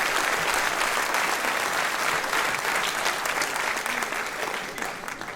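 Sustained audience applause fills a New Year's greetings ceremony in Mennecy, a dense steady clapping from a large crowd that stays loud throughout and tapers slightly at the end.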